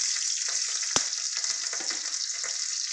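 Slit green chillies and spices fry in hot oil in a pan while bottle gourd is being cooked, a steady close sizzle and crackle with a sharp pop or spoon knock partway through.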